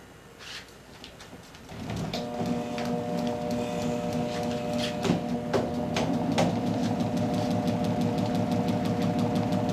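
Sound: generator running, prime mover rotating magnetic field

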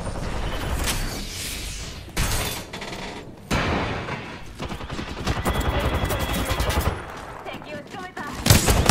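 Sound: gunfire in the video game Apex Legends

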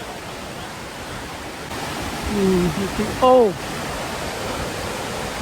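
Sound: Hebbe Falls waterfall, Chikmagalur

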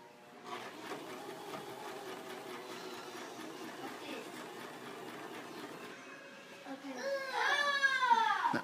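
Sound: sewing machine sewing a purse

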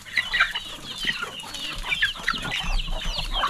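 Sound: chickens clucking at feeding time

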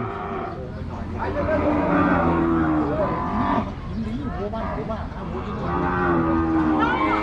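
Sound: cattle mooing at a livestock market

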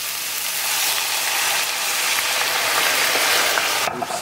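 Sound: green onions sizzling in a frying pan

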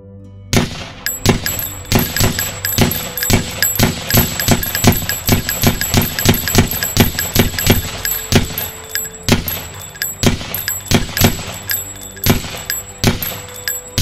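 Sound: gunshots during shooting drill

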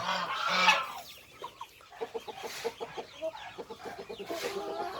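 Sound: Shamo and Aseel chickens clucking

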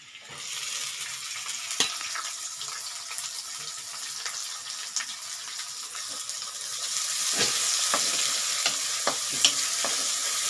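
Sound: sautéing onion and green chillies with garlic and ginger

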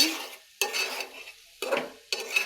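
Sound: stir-frying lentils with spices in a pan

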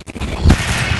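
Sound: gunfire in the video game Alien Swarm

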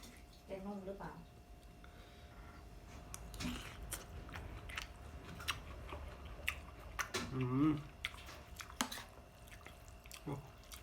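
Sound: person chewing and tasting Thai noodles

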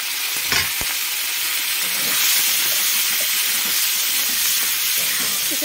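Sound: fish frying in hot oil

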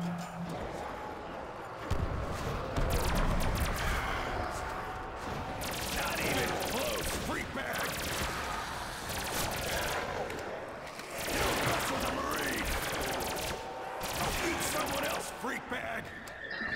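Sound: gunfire in Call of Duty: World at War zombies video game

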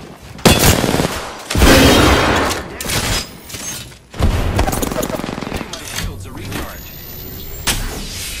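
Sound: grenade explosion and gunfire in the video game Apex Legends

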